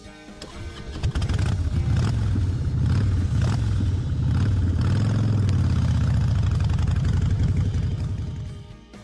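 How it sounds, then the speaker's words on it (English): A motorcycle engine runs steadily and loudly up close, its low rumble rising and falling slightly with throttle for about nine seconds, with no voices. "Motorcycle."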